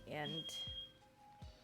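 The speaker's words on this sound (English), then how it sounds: "that's my fire alarm." A sensitive smoke alarm set off by cooking gives a short, shrill electronic tone right after a voice speaks, with fainter beeps following as talk continues nearby.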